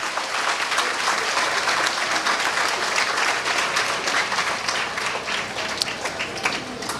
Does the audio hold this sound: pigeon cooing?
no